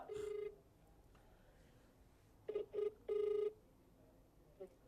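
Outgoing phone call ringing out, a ringback tone heard as one longer burst, then after a pause several shorter pulses, moderately faint and heard alone.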